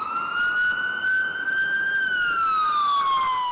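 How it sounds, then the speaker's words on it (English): An ambulance siren wails steadily on a city street in Toronto, a loud sustained tone that rises and falls smoothly, with traffic rumbling faintly underneath. "Seeing the lights and sirens of ambulances racing through the streets means paramedic crews are answering calls."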